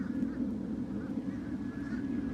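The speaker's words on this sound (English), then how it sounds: "Man, that's a lot of birds out here," A flock of geese honks outdoors in a steady, dense chorus of overlapping calls that carries on throughout, with a constant background rumble and no talking.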